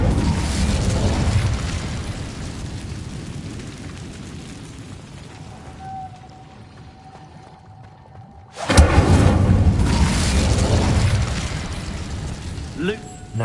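An Incendio fire spell in a Hogwarts game erupts in a sudden loud burst of roaring flame after a quiet stretch with a thin tone, following a loud rumbling opening, with talk around it.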